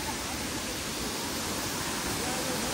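Waterfall in Meghalaya near the Bangladesh border, heard from below, gives a steady, dense roar of rushing water that stays constant throughout.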